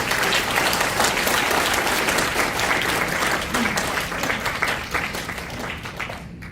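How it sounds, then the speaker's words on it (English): Audience applause after a presentation at a medical talk featuring a doctor speaker: dense, steady clapping from a crowd for several seconds, loud and close, tapering slightly near the end. "Can we give another round of applause?"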